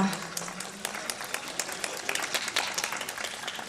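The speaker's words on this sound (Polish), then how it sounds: "Proszę Państwa, brawo!" An audience at the VII Bieg Nad Tanwią running race in Susiec applauds the winners, with steady, moderately distant clapping throughout and faint voices underneath.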